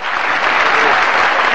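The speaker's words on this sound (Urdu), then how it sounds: "تالیوں سے سواگت کریں" Audience applause at a 2005 Lucknow mushaira poetry recital: dense, steady clapping from a large crowd, loud and continuous throughout with no talk over it.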